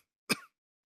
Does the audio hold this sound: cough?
yes